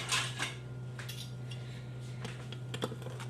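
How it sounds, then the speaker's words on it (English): A knife slices through hot, freshly cooked gluten-free vegan quinoa flatbread, giving faint, close crisp clicks and light scrapes against a quiet background hum. "I'm just going to cut it now that it's hot."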